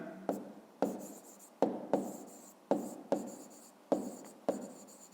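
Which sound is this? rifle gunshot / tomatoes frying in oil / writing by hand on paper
writing by hand on paper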